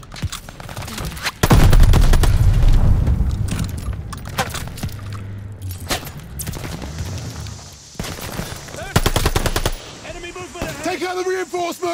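Automatic machine-gun fire in a WWII Call of Duty Vanguard battle, loud bursts and rapid volleys mixed with other gunfire, explosions and shouted combat voices.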